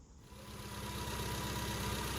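A modified car with a freshly tuned carburettor idles steadily, a low, even mechanical thrum with a faint rhythmic pulse, close by and with no talk.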